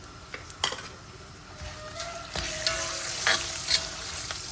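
Tempering spices with curry leaves and turmeric fry in a hot pan, a busy close sizzle that grows louder, with scraping stirs and sharp clinks of a spoon on the pan.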